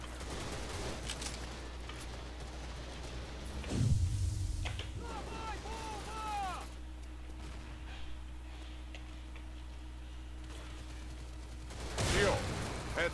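A video game shooter produces bursts of gunfire, with a heavy blast near the start and another near the end. Metallic ringing ricochet-like tones and a faint low hum fill the quieter stretch between them.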